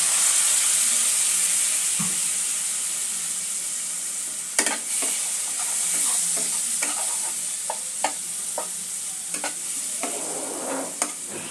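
Spice masala for chickpea-flour kachori frying in a pan after a splash of water is added, with a steady high sizzle throughout and intermittent scraping clicks of stirring, no voices.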